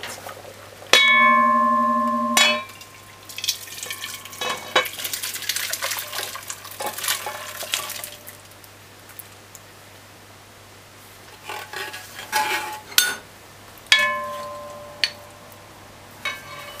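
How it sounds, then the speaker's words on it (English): Cooked oxtail being moved into a different pot, with ringing metallic clangs of pot and utensil, wet sloshing and scraping, irregular knocks spread across the clip, close and moderately loud. "then it's Transferring it to a different pot"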